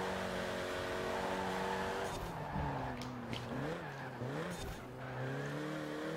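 Simulated 2008 Renault Mégane R26-R braking hard in a racing game, engine note dropping in stepped downshifts with tire squeal, loud and continuous for several seconds.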